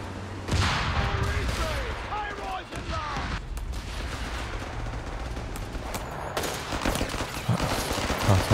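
Machine gun fire rattles in a Company of Heroes 3 battle, with rapid bursts and distant explosions in a dense, continuous game soundscape. A commentator talks over the action.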